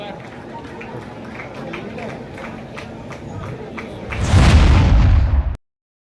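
Firecrackers burst at a BJP victory celebration in Puducherry after the Bihar election win: scattered pops give way to a loud, dense crackling barrage, with crowd voices throughout.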